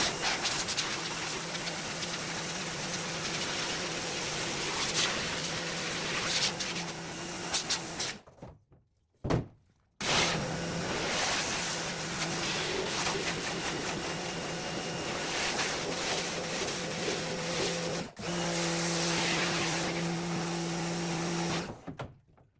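Water spray rinses a screen printing screen during reclaiming, a steady loud hiss with a motor-like hum underneath. It runs in two long stretches, broken by a brief pause near the middle and a short gap later.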